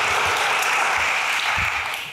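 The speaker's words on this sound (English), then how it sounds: "This deserves a round of applause, Kaya" Audience applause for Kaya at the Solutions House NYC 2024 event, a steady, dense wash of many hands clapping that fills the room throughout and thins slightly at the end.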